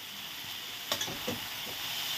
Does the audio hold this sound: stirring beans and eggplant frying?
yes